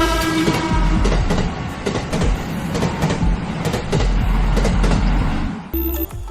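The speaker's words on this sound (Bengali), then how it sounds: "বিমানের এই বড় অংশগুলো বহন করতে ব্যবহার করা হয় বিশেষ কার্বো ট্রেন" A special freight train hauling large aircraft sections rumbles past loud and close, with steady rolling noise, rhythmic clickety-clack of wheels on rail joints and a sustained horn-like tone, no voices.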